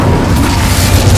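An Incendio fire spell blast cast in the video game Hogwarts Legacy, heard as a dense, rumbling low boom that sustains at a loud, steady level for about a second with no voices.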